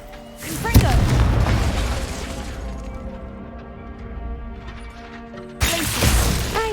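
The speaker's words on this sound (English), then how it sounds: "Confringo!" Confringo fire spell blasts in the Hogwarts Legacy video game, heard as a loud booming impact followed by a rumbling tail and a second burst near the end, with game effects and a voice around it.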